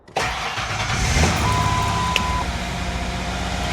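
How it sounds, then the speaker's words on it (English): A car engine, just after a fuel filter replacement, turns over briefly and catches, then settles into a steady, loud running idle with no talk. "Let the fuel pump prime, turn it off, let her prime, then you can crank her up."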